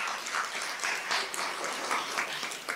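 A scattered round of applause from a small group, fairly faint and distant, with irregular claps continuing for a few seconds.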